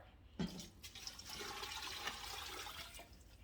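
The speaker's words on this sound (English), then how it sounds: "To that, I'm going to add water." Water pouring into a cooking pot for boiling neck bones with onion and seasoning, a quiet continuous gushing stream that begins with a sharp splash and runs steadily.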